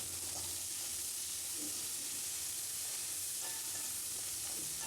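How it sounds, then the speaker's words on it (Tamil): Green chilies and curry leaves sauté in hot oil, filling the clip with a steady close sizzle and hiss broken by faint stirring scrapes. "பச்சை மிளகாயும் அதோடு சேர்த்துக்கிறேன். ரம்பை, கருவேப்பிலை இதெல்லாம் சேர்த்துக்கலாம். சேர்த்து நல்லா வதக்கி விட்டுறணும்."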